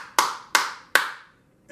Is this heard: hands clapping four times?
yes